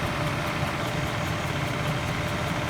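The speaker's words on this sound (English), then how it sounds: "To be honest with you, the compressor really doesn't sound that healthy." A 2007 Chevy 1500 pickup's air conditioning compressor runs with a steady low engine-like hum and idle rumble, continuous and even throughout, with no voices.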